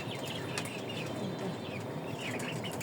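Farm chickens raised on a household rooftop give faint, scattered clucks and chirps over a steady hiss of background noise, with no talking.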